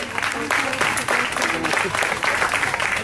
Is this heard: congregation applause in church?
yes